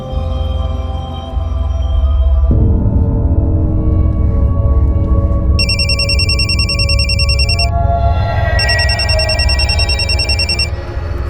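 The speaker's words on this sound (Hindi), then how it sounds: "फोन क्यों नहीं उठा रही?" A telephone rings unanswered in a home, its bright electronic trill repeating in two bursts over a loud, steady background, with no one speaking.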